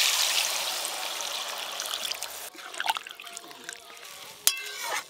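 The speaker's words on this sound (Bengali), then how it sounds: "এবার জল দিয়ে দেবো।" Water poured into a pan of frying egg curry, a loud sizzle giving way to bubbling and trickling, with a sharp utensil knock near the end, close by and without talk.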